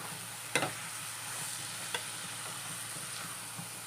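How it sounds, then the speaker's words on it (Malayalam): A spoon scrapes and stirs through curd mixed into avial in a pan, leaving a soft sizzle with a few sharp clinks against the metal, fairly quiet and without talk. "നമുക്ക് കുറച്ച് തൈര് ചേർത്ത് കൊടുക്കാം ഒന്ന് മിക്സ് ചെയ്ത് കൊടുക്കാം"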